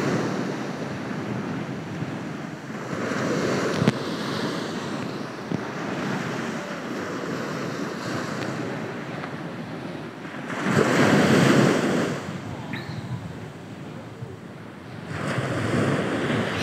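Ocean waves surge and wash ashore while gusty wind buffets the microphone, rumbling in uneven swells that peak strongly partway through, with no voices.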